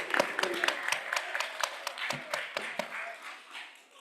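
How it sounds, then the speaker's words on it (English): Applause and clapping from an audience at a youth pitch event, fairly faint and thin, with a scattering of individual claps that fades off toward the end. "Ladies and gentlemen, big round of applause."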